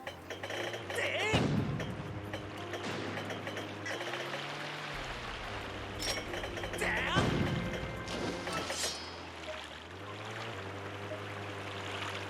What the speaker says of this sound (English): We must pursue and keep pounding it with the cannon.